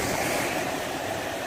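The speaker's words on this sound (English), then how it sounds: "waves rose meters high on the coast" Storm-driven waves break along the Üsküdar coast during a violent windstorm, making a steady, loud roar of surf and wind noise that fills the whole clip with no voices.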